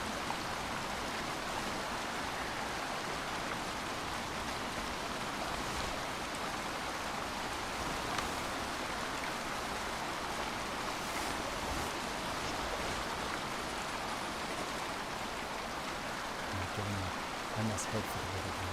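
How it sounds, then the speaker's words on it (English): A waterfall pours in a video game, a continuous broad roar of rushing water that stays loud and steady throughout, with a few faint thuds near the end. "The moment you think you're safe behind the waterfall."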